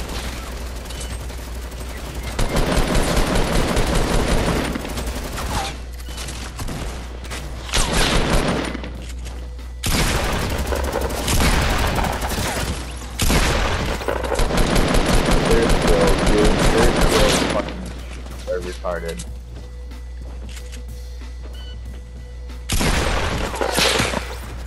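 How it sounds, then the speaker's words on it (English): Gunfire in the Fortnite video game, with dense automatic bursts and single shots in long loud stretches broken by brief lulls, heard over a constant low hum. "Got three guys shooting at me."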